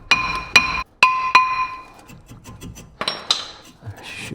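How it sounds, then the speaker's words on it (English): A hammer hits a worn brake rotor on a GMC Terrain four times in quick succession, each blow ringing out with a bright metallic tone, followed by quieter scraping and clinking of metal. "Now we're replacing these rotors, so I'm going to use a hammer to get it off."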